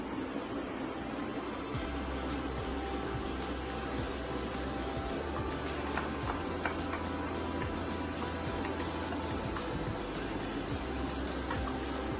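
Chopped onions sizzling in a pan with mutton for a ghee roast, a steady, even frying hiss that runs unbroken throughout with no talk.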